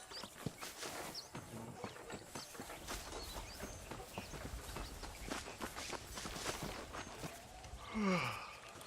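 Horse hooves clip-clop in the Red Dead Redemption video game, a steady stream of soft, fairly quiet footfalls through most of the stretch, mixed with game ambience, ending in a brief rising animal snort or whinny near the end.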